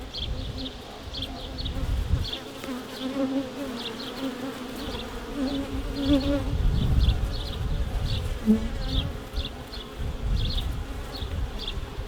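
Honey bees buzz steadily in a dense, continuous hum, with the drone rising and falling as insects move close by.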